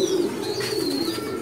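Homing pigeons in a breeding loft give a steady, close run of soft, throaty cooing, with a faint chirp high above it, all without any talk.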